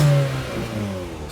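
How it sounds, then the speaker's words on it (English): Car engine revved hard in a brief exhaust rev test at an Australian car auction, one loud close rev that falls away to a lower idle, with water in the exhaust. "you want a rev test? Hear the exhaust?"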